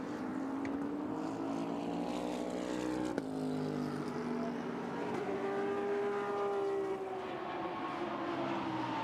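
Porsche 991 GT3 R race car at Fuji Speedway during a GT Asia race, a continuous engine drone with rising and falling harmonic pitch, steady and fairly loud, with one brief sharp click partway through.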